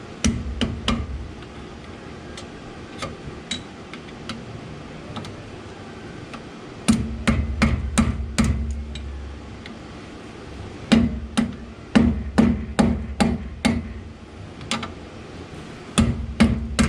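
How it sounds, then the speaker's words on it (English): Sharp metallic hammer taps ring out in irregular bursts, close and clear, as an axle bearing is driven out from the other side during a wheel bearing job. "I'm gonna have to tap it out from the other side"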